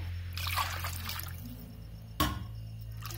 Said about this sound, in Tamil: அதுக்கப்புறம் இந்த ரசத்துக்கு தேவையான தண்ணியை நம்ம இப்போ ஆட் பண்ணிக்க போகிறோம்